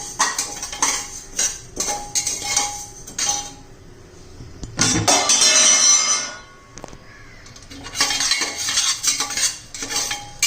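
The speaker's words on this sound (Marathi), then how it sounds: "आता आपण ही ज्वारी त्याच्यात टाकून घेऊया आणि सारखे हलवत राहायचे" Sorghum grains are stirred in a hot pan over high flame for popping, giving close metallic scraping and clinking of a utensil against the pan in irregular bursts with brief pauses.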